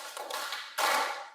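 Students clapping in unison during a classroom concentration drill: a burst of many overlapping hand claps, then a pause and a sharper, louder group of claps that fades out, with no voices.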